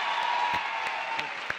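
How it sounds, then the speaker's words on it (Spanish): Studio audience applause on a television variety show, scattered claps and cheering from a crowd, moderately loud and fairly even, with a few sharper individual claps standing out. "Con usted, aplausos por Joan."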